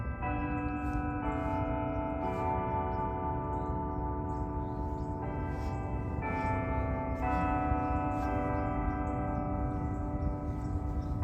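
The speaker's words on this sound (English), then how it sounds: "The church bells have rung." Church bells ring steadily with overlapping, sustained tones that swell and restart every few seconds, resonant and moderately distant, with no voices.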